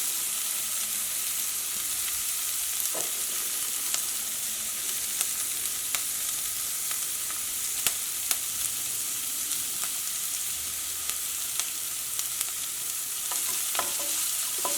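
Carrots and curry leaves sauté in a hot pan for vegetable fried rice, a constant soft sizzle broken by sharp intermittent taps and scrapes of a spatula stirring, heard alone at moderate volume.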